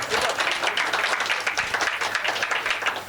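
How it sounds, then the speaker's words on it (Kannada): Steady applause from a crowd, dense and continuous clapping filling the whole moment without a break. "ಜೋರಾಗಿ ಚಪ್ಪಾಳೆ"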